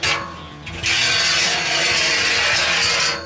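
Nuts scraping and sliding along the inside of a metal strut channel on an archery string jig, a close, sustained gritty metallic rasp after a short quieter start.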